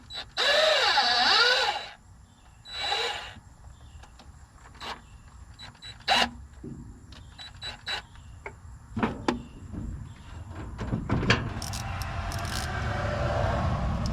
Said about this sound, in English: I shouldn't be using an impact on these, but they're coming off good